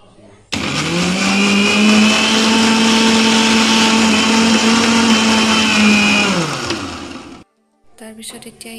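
An electric mixer grinder whirs loudly and steadily for about six seconds while blending cake batter, its motor pitch holding constant before winding down, followed by silence and faint handling noises.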